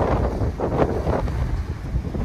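Strong, cold wind blows in off the Black Sea on a sunny October day along the Sochi shore, with steady buffeting gusts rumbling against the microphone and rough waves under them throughout.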